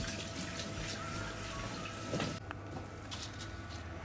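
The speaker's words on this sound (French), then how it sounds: "Et toujours rincer le pilon pour pas que les autres ingrédients aient le goût de l'ail après" Running tap water pours steadily over a pestle being rinsed of garlic while cooking a Réunion chicken curry, a continuous close splashing stream that briefly changes tone near the end.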